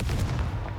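A Confringo fire spell blast in Hogwarts Legacy, one brief, heavy, booming burst.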